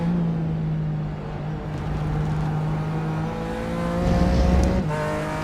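A BMW race car in the iRacing video game roars at high revs through gear changes, a loud, sustained engine whine with rising and falling pitch and a brief surge near the end.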